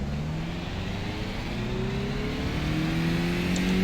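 A race car engine in a racing video game at Okayama circuit on a warm-up lap with cold tires, droning steadily and rising gradually in pitch as it accelerates, loud and continuous.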